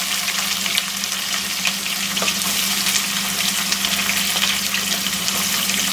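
Onion, green chili, mustard seeds and curry leaves sautéing in hot oil for tomato rice, a dense continuous crackling sizzle heard up close with faint stirring underneath.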